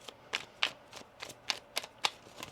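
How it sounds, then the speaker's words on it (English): Tarot cards being shuffled by hand: a series of crisp riffling snaps and soft flicks, roughly eight bursts in quick uneven rhythm, close and quiet with no talking. "One more shuffle."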